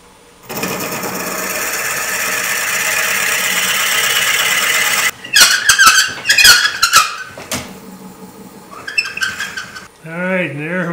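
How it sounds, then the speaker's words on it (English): A steady high-pitched whine from a Forstner bit boring into wood on a lathe runs for several seconds, then stops, followed by scattered screeching scrapes and bumps. "I'm going to drill this out a little bit more."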